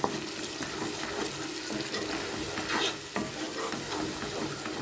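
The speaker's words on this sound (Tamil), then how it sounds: "நல்லா இந்த மாதிரி நல்லா மிக்ஸ் பண்ணிக்கலாங்க" Steady scraping and stirring of shallot chutney in a frying pan with a soft sizzle underneath, continuous and close, with no voices.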